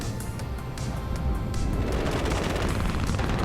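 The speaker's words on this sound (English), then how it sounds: "These guys are shooting" Gunfire from units in the Cold War real-time strategy battle game WARNO, a dense spread of crackling shots and booms that rattles on throughout at moderate loudness.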